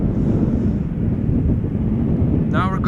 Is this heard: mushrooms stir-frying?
no